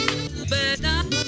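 A mono, center-panned music signal sits in a wash of reverb while ping pong delay echoes bounce behind it, full and continuous through a short musical phrase.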